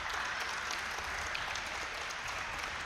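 Crowd applauding at a badminton semifinal in the Oceania Championships, continuous dense clapping from a large audience, steady and somewhat distant throughout.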